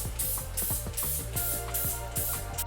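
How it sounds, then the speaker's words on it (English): Repeated bursts of Lysol aerosol spray hiss against tiled shower walls during a moldy bathtub cleaning, about six short sprays in a steady rhythm, close and clear over faint background music. "then we took the Lysol spray and sprayed the walls."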